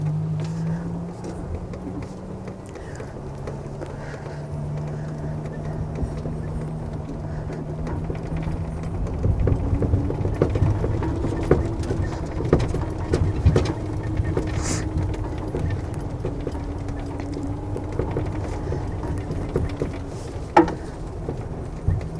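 A low speed electric vehicle drives slowly around a small town in Valemount, BC during a test drive, giving a quiet steady low hum with faint road and wind noise and occasional light clicks.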